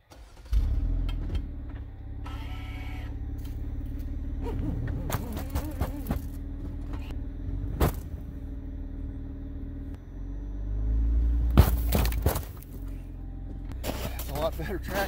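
A car stuck in snowy woods revs its engine as a tire spins in the snow, with rumbling surges and sharp bursts rising and falling over about fifteen seconds. Someone talks briefly between the revs.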